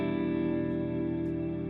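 A pitched-down guitar chord sample run through effects for a downtempo track, ringing as one sustained, dense harmonic chord at steady volume, with no talking.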